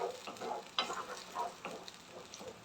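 Onion and tomato sautéing for a ladyfinger kara kulambu, soft sizzling with a few quick stirring scrapes, close but quiet.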